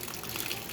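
Water gushes from the faucet of a water jug in a short, steady burst of splashing flow.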